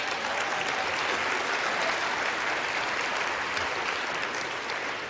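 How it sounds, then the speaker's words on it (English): Sustained applause from a Capitol audience honoring congressional staffers at a swearing-in ceremony, a dense, steady wash of clapping that holds at an even level throughout without voices. "Can we have a round of applause for them, please?"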